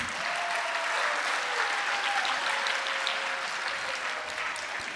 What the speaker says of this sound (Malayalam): നല്ലൊരു കയ്യടി കൊടുക്കാം പ്ലീസ്.